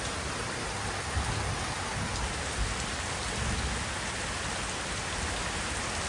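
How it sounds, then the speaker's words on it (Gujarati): Heavy rain pours down with drizzle during a thunderstorm, a dense, constant roar of rainfall close by with no voices, holding steady throughout. "મેઘવર છે બાપુજી ઝરમર વીજળી થાય છે"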